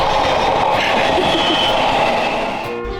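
A train rumbles steadily past close by in Tokyo, a continuous loud roar of rail noise with faint clattering, no voices.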